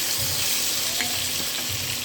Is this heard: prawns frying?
yes